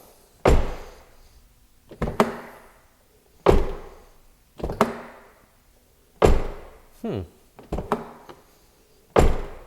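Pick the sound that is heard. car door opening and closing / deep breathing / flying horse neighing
car door opening and closing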